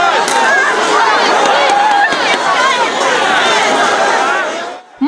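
A large crowd on a snowy street protest march in Rostov, January 2021, chants and shouts at police, a loud, close roar of many voices that drops away abruptly at the end.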